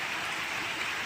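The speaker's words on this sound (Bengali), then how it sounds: "দেখো বন্ধুরা, আমাদের এখানে কত বৃষ্টি হচ্ছে।" Heavy rain falls after a storm, a close, dense and even hiss of water filling the moment without any break or speech.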